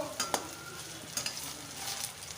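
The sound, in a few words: frying fritters in oil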